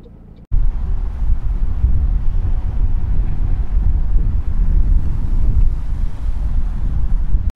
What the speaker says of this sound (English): we are full on getting that snowstorm that was predicted